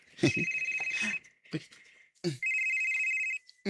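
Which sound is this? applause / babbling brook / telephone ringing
telephone ringing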